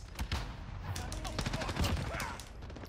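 Gunfire in Call of Duty Warzone: scattered rapid shots and bursts, somewhat distant and fairly faint, mixed under people talking.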